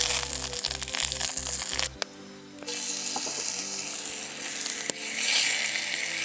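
Deer heart browning in hot oil in a pan over an outdoor fire, giving a steady close sizzle throughout with a brief dip partway and faint clicks and crackles.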